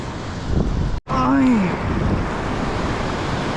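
Ocean surf washing along a low-tide shore where someone is shore casting for fish, heard as a steady broadband wash with wind buffeting the microphone, a brief dropout near the start and a short rising-falling whistle-like tone.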